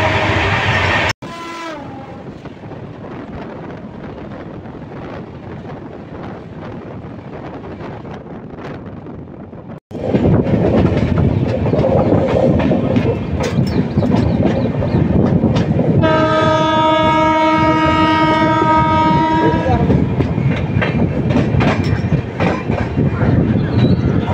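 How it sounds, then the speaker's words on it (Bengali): Darjeeling Mail running at full speed, loud rushing rumble and rhythmic wheel clatter with heavy wind noise, then a long sustained horn blast near the end. "আমরা একটা ট্রেনে জার্নি করছি, যে ট্রেন দাঁড়ায় কম কিন্তু দৌড়ায় বেশি।"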